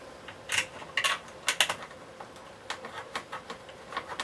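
Screws are driven in by hand during reassembly of a Hoover Junior 1346A motor, giving soft, close, intermittent clicks and scrapes in uneven bursts.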